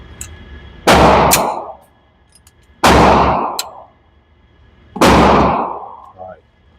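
Three loud, evenly spaced shots from a Sig P320 Spectre Comp pistol at a range, each a sharp crack with a ringing tail, separated by pauses of about two seconds.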